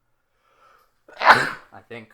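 A single loud, close sneeze bursts out during a podcast conversation, followed by brief speech.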